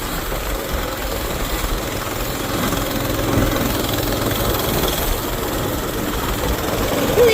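An old motorbike engine left running on choke after years of sitting, a continuous rough, uneven idle with a slight rise in level midway, steady and close throughout.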